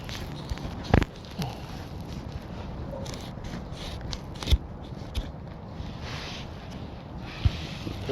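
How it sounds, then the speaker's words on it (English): Pruning scissors cutting branches high up in a black locust tree, a steady rustle of blade work and branch movement with a few sharp snips, close to the microphone and without talk. "These scissors rule."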